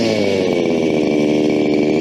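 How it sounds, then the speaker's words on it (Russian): A petrol grass trimmer runs at a steady, loud, buzzing idle close by in a village setting, just started before mowing grass. "Маша идет косить траву. Очень шумно."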